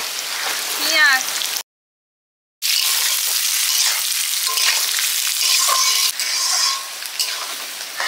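Onion goes onto fried potatoes in a hot pan during a cyclone, giving a steady close sizzle with stirring scrapes and a brief silent gap, with voices and faint background noise.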